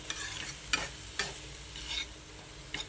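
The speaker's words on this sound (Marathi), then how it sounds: "हा मसाला तेल सुटेपर्यंत परतून घ्यायचा आहे" Bangda fish masala sautéing in hot oil, with a soft steady sizzle and a few louder scrapes and stirs of a spoon through the pan, close and without talk.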